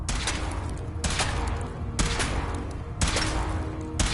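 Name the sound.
gunfire in Fallout 4 video game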